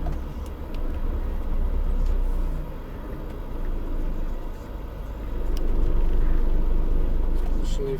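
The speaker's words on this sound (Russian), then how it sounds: "Машины и фуры." Cars and heavy trucks passing on a road near a highway fuel stop in Spain, a steady low rumble of traffic with swells as vehicles go by, heard from close by.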